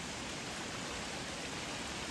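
1000 Drips Waterfall in the Smokies, beside the road on the Roaring Fork Motor Trail, gives a steady, broad rush of falling water that fills the scene without a break.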